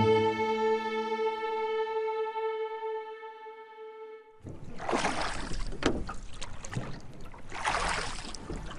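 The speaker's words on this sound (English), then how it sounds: "Ludlov sat in the middle of the boat next to Alvarado, facing the aft and rowing away from the Theresia" A rowboat is rowed away from a ship in an audio drama scene, with rhythmic oar splashes and water swishing that begin after a sustained held tone fades out.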